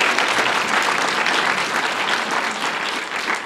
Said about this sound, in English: Let's give her a bigger applause.